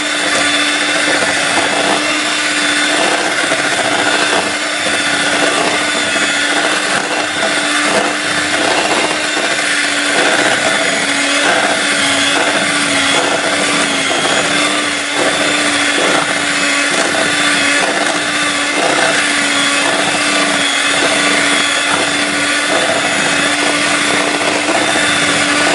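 An electric stand mixer whips shea butter in its rotating bowl, a loud, steady motor whir with a constant hum and scraping churn throughout, with no talk.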